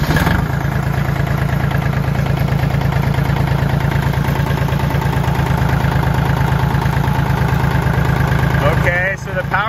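A Kubota L2250 tractor with a power steering problem is idling loudly and close by, with a steady low rhythmic throb. Near the end the engine briefly dips, and a voice can be heard over it.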